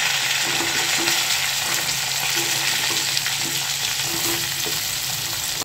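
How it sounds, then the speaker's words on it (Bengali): Ridge gourd and potato pieces fry in hot oil, a dense, continuous hiss and sizzle held steady at close range, with faint stirring underneath and no voices. "আর এখানে যে ঝিঙেগুলোকে ভেজে নিচ্ছি"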